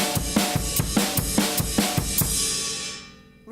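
Drum kit groove in 7/8 built from snare, kick and ride, a steady repeating pattern of sharp hits with a washing ride cymbal, played alone and ringing out at the end.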